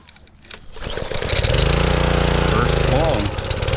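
A pressure washer's gasoline motor cranks and catches after a few rough turns, then settles into a loud, steady, close-up running drone.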